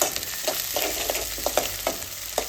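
Eggplant stir-fried with garlic and onion in hot oil: continuous soft sizzling with a series of regular spatula scrapes and taps against the pan, close up, no talking.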